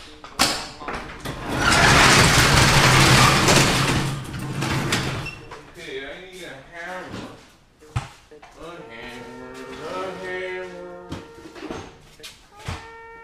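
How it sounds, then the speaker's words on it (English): A door slides or swings open indoors with a broad rush of scraping noise lasting a couple of seconds, followed by several people talking. "Tony, I'll just open up the door here."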